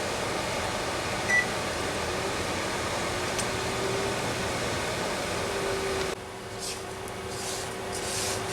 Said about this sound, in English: I'm going to microwave this for 3 minutes.